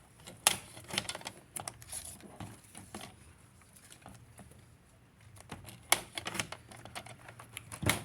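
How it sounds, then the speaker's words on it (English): A paper trimmer slices scrapbook paper to 11 inches, giving sharp close clicks and snaps in irregular bursts, with quieter shuffling of sheets between the louder cuts. "we're going to turn both of these short in the trimmer and cut them both at 11 inches"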